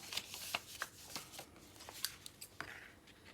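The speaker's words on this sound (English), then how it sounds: "So we fold in thirds, we fold our tuxedo flaps" Book page paper is creased and folded into a tuxedo pocket, giving soft, close crinkles and sharp papery snaps in irregular bursts at a quiet level.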